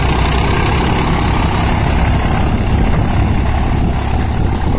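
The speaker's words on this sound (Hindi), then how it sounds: "चाल देखिए आप ट्रैक्टर की।" A Swaraj 744 XT tractor of 52 HP rigged with a nine-tine cultivator runs steadily, a loud, close diesel rumble with constant vibration and no voices.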